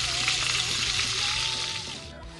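Tenderloin sears in a hot pan while hunting, a steady loud sizzle filling the whole stretch with no one speaking.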